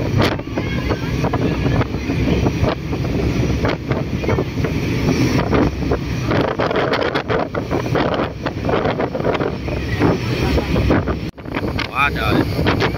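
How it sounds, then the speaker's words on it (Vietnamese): Strong wind roars and buffets across a high-speed ferry on the sea crossing to Phu Quy island, a constant loud rush with engine and water noise beneath, and people talk over it. "Quá trời gió."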